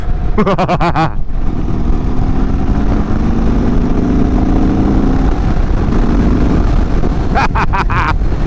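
Indian Chief Dark Horse motorcycle on a test ride, its steady engine drone and road rumble running loud and continuous throughout, with brief bursts of wind or handling noise at the start and end.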